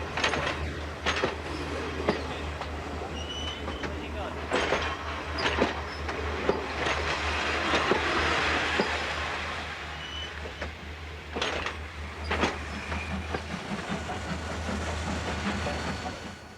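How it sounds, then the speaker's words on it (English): A train runs on rails in a 1970s railway scene, a steady rumbling roll with hiss and intermittent clicks and clanks, moderately near and continuous throughout, with no talk. "The great advantage of the steam engine is that it's very cheap to build, it's very reliable, and it can be maintained by more or less anyone."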